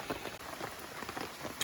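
Pouring rain outdoors in Maine, a steady broadband hiss of drops pattering on surfaces, fairly soft and even throughout with no voices.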